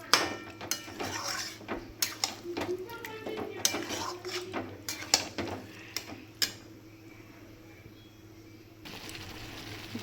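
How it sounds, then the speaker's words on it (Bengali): Chicken is stir-fried in a pan with masala, a rapid series of sharp spatula knocks and scrapes against the metal over a low background hum, then the clatter stops and only a faint sizzle remains. "এবার চিকেনটা দিয়ে এবার আমি ভালো করে কষাবো।"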